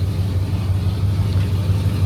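Low, steady rumble of a 1978 Ford F100 truck engine, a continuous droning hum close by, loud and even throughout with no distinct cranking bursts.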